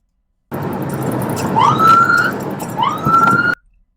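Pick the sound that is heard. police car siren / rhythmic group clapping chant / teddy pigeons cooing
police car siren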